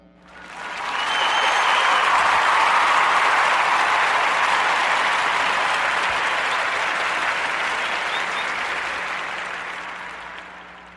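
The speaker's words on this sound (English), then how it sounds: "Let's clap it up for him." A studio audience on a podcast breaks into applause that rises quickly, holds as a dense steady wash of clapping for about nine seconds, then slowly thins and fades.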